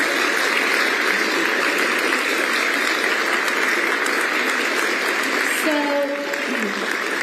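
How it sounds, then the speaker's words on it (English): Sustained applause from a large crowd at an election night event, steady dense clapping filling the whole stretch, with a brief whistle or cheer near the end. "let's give all the volunteers and the team a big round of applause"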